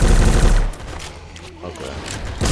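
M60 machine gun in the video game Those Who Remain, firing loud rapid bursts with a dense low-end roar that breaks off briefly and then resumes, with someone talking over the gunfire.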